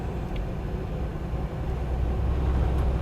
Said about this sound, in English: Let's see if we can accelerate it